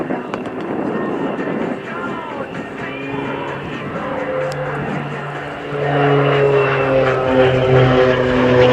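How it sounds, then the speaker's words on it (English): An OV-10 Bronco twin-propeller aircraft makes its final display pass at the Scampton airshow with a steep bank. The loud propeller drone rises and holds in pitch as the plane passes, and a commentator talks over it. "89 degrees angle of bank is what's being applied there for the final pass of this aircraft from the Bronco demo team"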